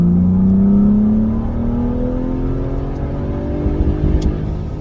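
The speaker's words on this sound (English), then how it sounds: "Hard acceleration." A 2020 Ford Explorer ST engine revving hard under full acceleration in sport mode, loud and close, its pitch climbing steadily as the revs rise with a brief dip like a gear change.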